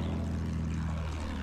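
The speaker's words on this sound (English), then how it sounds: "That other plane's being chased by one of our planes." A propeller aircraft engine drones steadily in a video game air battle with attack planes, a loud continuous hum with no talk.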